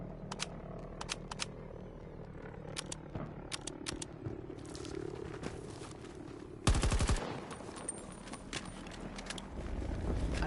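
Video game gunfire from Battlefield 2042 beta on PS4 Pro: rapid automatic bursts and scattered single shots over a busy battlefield din, with a louder, denser volley midway.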